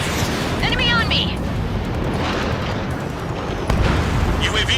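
A destroyed UAV explodes in the Ace Combat 7 jet combat game: a loud, continuous roaring rumble with heavy booming bursts throughout, with voices mixed in.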